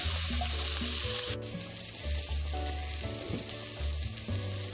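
Lamb sizzles in a pan as paprika is mixed in, a constant close frying hiss with scraping stirs throughout, while music plays underneath.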